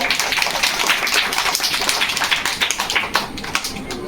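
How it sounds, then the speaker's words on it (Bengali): Children at a drawing and recitation school's Teachers' Day prize giving clap together, producing dense, steady applause of many small hands with rapid overlapping slaps that stays even throughout. "সবাই জোরে হাততালি দাও"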